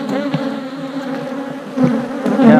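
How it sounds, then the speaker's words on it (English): Many honey bees buzz around an open new hive, a dense close drone with individual bees zipping past, growing louder toward the end. "Man, look how many bees we got."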